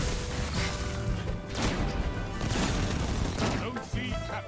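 Gunfire in the video game Destiny 2 during a Crucible PvP match, with dense rapid shots, crashing impacts and booms crowding together loudly across the stretch, mixed with raised voices.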